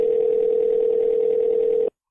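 A single continuous telephone dial tone holds at a steady pitch for about two seconds before cutting off abruptly.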